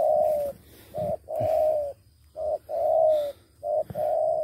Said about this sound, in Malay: Ini burung besar nih teman-teman burungnya.